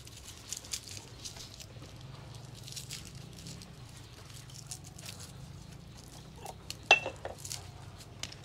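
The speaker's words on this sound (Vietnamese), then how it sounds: "Lấy cái muỗng trộn lên." A spoon stirs seasoned ingredients for braised duck in a pot, making faint, scattered metal clinks and scrapes against a low background hum, with one sharper clink near the end.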